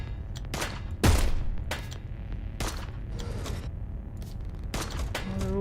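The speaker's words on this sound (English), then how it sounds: "Oh, the bullets are just bouncing off them." Gunfire from the Heat Signature space game, bullets striking and glancing off heavily armoured enemies: a run of sharp shots and impacts, one loud burst near the start, then scattered cracks over a steady low background.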